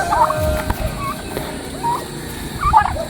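Turkeys gobble in short warbling bursts, several calls spread across a few seconds, with scuffling and barnyard noise underneath.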